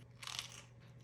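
A single crisp crunch as teeth bite into a slice of homemade pepperoni pizza with curled, crispy pepperoni, close and fairly quiet against a low steady hum.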